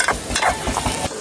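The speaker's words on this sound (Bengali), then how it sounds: "পেঁয়াজটা ভাজতে ভাজতে হয়ে যাবে।" Onions frying in a pan at an outdoor village picnic cookout, a loud, close, crackling sizzle with rough stirring over a brief moment.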